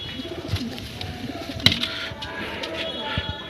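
A female pigeon coos in a home loft, soft low rolling calls repeating near the microphone over a noisy background, with a sharp click partway through.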